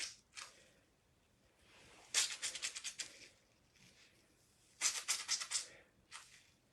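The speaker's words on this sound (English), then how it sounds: "Keep scrunching. You want to make sure your hair's dripping wet for this step." Hands scrunching dripping wet wavy hair make soft, close squishing crackles in short bursts, separated by quiet pauses.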